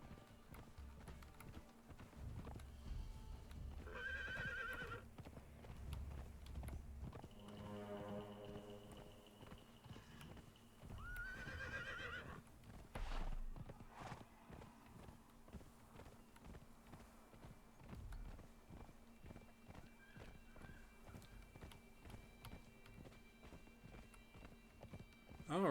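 A horse ridden across open ground in Conan Exiles, steady clip-clop hoofbeats at a brisk pace, fairly faint, with a brief snort and light game ambience.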